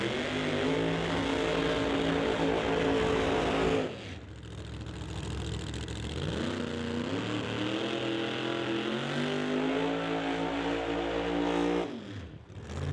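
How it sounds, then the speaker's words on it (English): Pro Mod drag racing cars idle and rev loudly under a bridge at a drag strip, a dense continuous engine roar that dips briefly around four seconds, then swells again with rising revs before a short drop near the end. "you can hear the Pro Mods firing up underneath Lordco Auto Parts Bridge"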